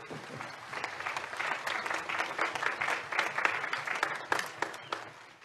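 Audience applause at a concert, a steady dense wash of many hands clapping that holds evenly throughout, no music playing.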